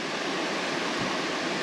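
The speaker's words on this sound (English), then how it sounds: "So I'll just open that one too, and then you got running water." Water runs steadily from a small tap on a 4WD vehicle's water tank, a constant close hiss and splash with no voices.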